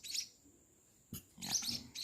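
A one-week-old sparrow (pipit) chick chirps in short, high, close bursts, with a brief cheep at the start and a busier run of rapid calls near the end.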